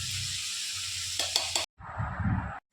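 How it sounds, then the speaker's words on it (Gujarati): Grated bottle gourd sautéing in ghee, giving a steady sizzle with a few quick spatula scrapes, then a short cut and a brief burst of louder frying and stirring. "આપણી દૂધી એકદમ ઘીમાં સતળાઈ ગઈ છે"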